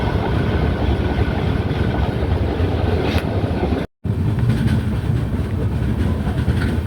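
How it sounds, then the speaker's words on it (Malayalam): Pune–Kanniyakumari Express running on the tracks past Pettah toward Thiruvananthapuram Central, a loud, steady rumble with faint rhythmic wheel clatter, cut by a brief dropout midway, no voices. "അങ്ങനെ പേട്ട കഴിഞ്ഞ് സെൻട്രലിലേക്ക് ട്രെയിൻ പോവുകയാണ്."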